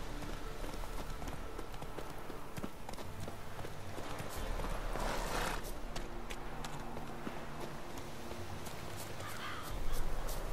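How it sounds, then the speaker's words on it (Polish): Crows caw in the open world of The Witcher 3 at nightfall, the calls faint and scattered over a dense bed of game ambience and clopping hoofbeats. "Jakieś wrony mi tutaj krakają"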